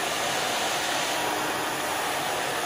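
A hair dryer runs steadily and close as it blow-dries a short asymmetrical bob with a root lifter applied, giving a constant, even, breathy roar with no break and no voices.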